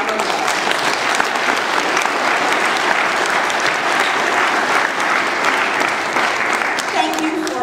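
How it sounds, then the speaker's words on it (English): A church congregation applauds its visiting guests from Alabama with dense, sustained clapping that fills the whole stretch at an even, loud level. A voice is faintly audible near the end. "let's give one more round of applause to our guests and friends from Alabama."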